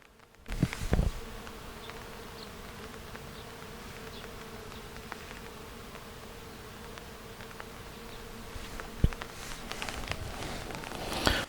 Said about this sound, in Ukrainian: І слухайте, як бджоли гудуть.